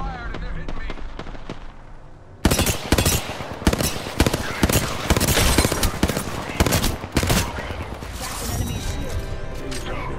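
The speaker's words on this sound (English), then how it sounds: "All right, shots fired and they're hitting me." Gunfire in the video game Apex Legends arrives as dense, rapid automatic bursts and loud overlapping shots after a quieter opening, with voices over the action.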